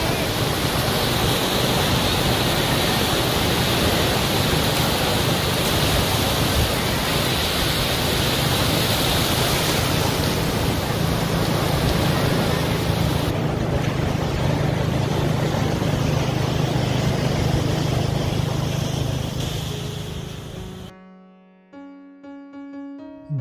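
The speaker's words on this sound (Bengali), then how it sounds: "এরপর সাগরের কাছাকাছি চলে আসলাম সাগরের উথাল পাতাল গর্জন" Ocean waves roar at Inani sea beach, a loud, unbroken wash of surf that holds for about twenty seconds before fading out and giving way to a short musical tail, with no talking.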